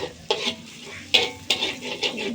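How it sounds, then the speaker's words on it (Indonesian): Shallots and garlic fry in a pan while a utensil stirs them, giving several sharp scraping strokes over a steady close sizzle, with no talking. "Jadi bawang merahnya nanti saya tidak terlalu coklat biar bawang putihnya tidak gosong"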